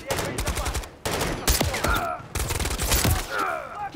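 Rapid gunfire bursts from Call of Duty: Modern Warfare III crackle in three dense volleys with brief gaps, loud and close, under scattered game voices and grunts.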